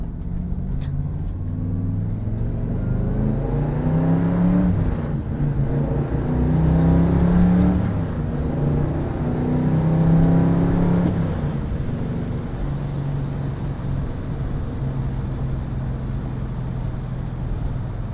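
A 1964 Chevy pulls hard out of a tight corner, its engine rising and falling through several strong, close revving surges before settling into a steady cruising drone.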